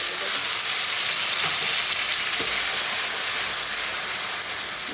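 Ground spice paste with kasuri methi fries in a pan, giving a loud, dense, unbroken hiss of sizzling oil close by that holds steady throughout.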